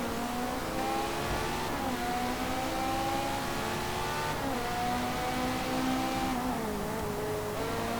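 Race car engine in Forza Motorsport 4, a steady loud droning roar that holds a high gear, with pitch sliding up and down slightly as the car accelerates and eases off, continuous throughout.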